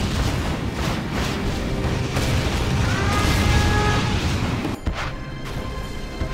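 Tomahawk cruise missile strikes from the game C&C Generals Zero Hour, a sustained roar of booming explosions and rumble with a sharp blast near the end, loud and continuous.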